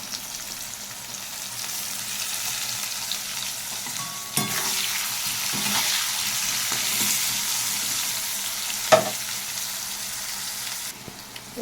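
Chopped onions fry in a pan with a continuous, close sizzle, punctuated by occasional stirring scrapes and a couple of sharper clinks; no voices are heard.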